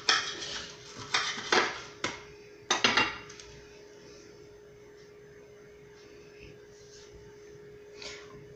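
A knife cuts through homemade mozzarella on a board with a few sharp, close knocks and scrapes near the start, then quieter faint handling, with no talk.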